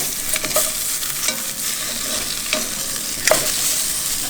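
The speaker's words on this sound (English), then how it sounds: "Just cooking the lamb shanks." Lamb shanks frying in a pan at a campsite, with a steady sizzle and several clattering stirs from a utensil, close by and without talk.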